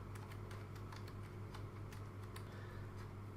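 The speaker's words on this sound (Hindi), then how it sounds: "ये जो टेक्स्ट आपको दिख रहा है एज इट इज़ आपको यहाँ पे टाइप करना है" Quick, steady keystrokes on a computer keyboard tap out a captcha code while filling in an income tax return form, a dense close clatter of clicks over a constant low electrical hum.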